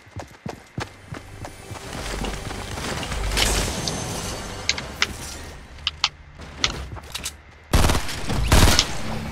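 Gunfire in the video game Fortnite, several sharp separate shots spaced irregularly over busy game ambience with footsteps, with a louder burst near the end.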